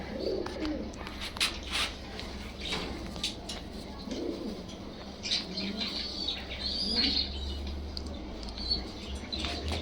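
A pet pigeon suffering from a viral eye infection coos softly in low repeated phrases, set against a steady background hum with occasional rustling and faint chirps, close by.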